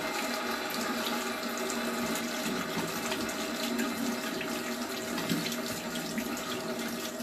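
Cold tap water runs steadily from a faucet for rinsing the face after a shave, a continuous close splashing stream with no talk.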